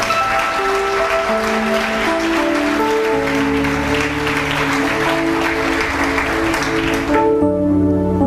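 Church congregation applauding together, a steady dense wash of clapping that stays loud throughout, with organ or keyboard chords sustained underneath and the music shifting near the end.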